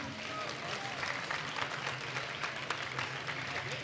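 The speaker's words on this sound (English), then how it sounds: "one big round of applause for the captains." Audience applause for the team captains at a League of Legends celebrity ARAM showdown, a steady, moderately distant wash of clapping through the whole stretch with faint crowd murmur beneath.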